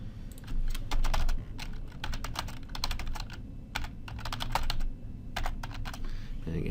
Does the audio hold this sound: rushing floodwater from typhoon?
no